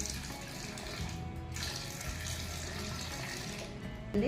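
Water poured steadily into a new clay pot, a continuous close splashing trickle with a brief louder splash at the very end and no talk.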